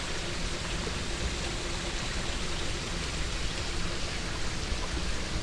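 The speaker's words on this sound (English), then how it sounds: "And what we're looking at right now is Nuttall Creek, named after John Nuttall." Steady broadband rush of Nuttall Creek flowing near an abandoned mining town in Nuttallburg, West Virginia, constant and fairly close, with no other sounds.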